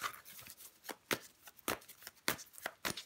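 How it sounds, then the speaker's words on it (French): Tarot cards are handled and laid out on a table, giving close, quiet papery flicks and slaps in an irregular run of a dozen or so. "On va recouvrir des cartes."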